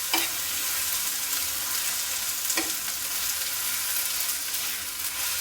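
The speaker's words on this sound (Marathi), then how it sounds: "थोडंसं फ्राय करून लसूण पण त्यातच घालून घ्यायचं थोडं थोडंसं परतून घ्यायचं आहे" Chilli, onion and garlic frying together in a pan, an even loud hissing sizzle heard close, with two soft spatula taps against the pan and no talk.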